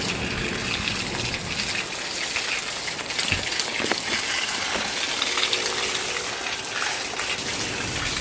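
A garden hose sprays water over a hot tub filter to rinse it out, a steady, broad gushing and splashing that runs without a break at moderate level, with no talk.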